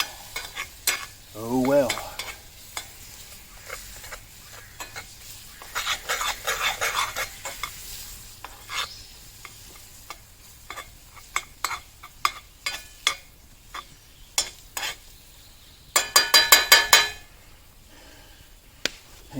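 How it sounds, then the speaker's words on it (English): A tablespoon stirring greasy food in a frying pan, with bursts of scraping and metallic clinks against the pan over a low sizzle, and one brief voice in the middle. "Got my tablespoon. I'm going to stir this up"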